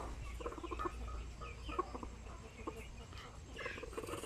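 Native chickens cluck in a backyard coop, soft scattered clucks and short calls at a distance under faint background noise, with a low voice speaking now and then.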